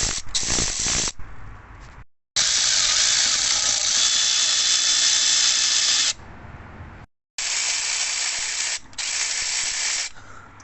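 A power driver with a T30 bit backs out bolts on an Audi Q7 3.0 TDI engine, producing long, steady whirring hiss in three loud runs separated by brief silences, close up and without speech.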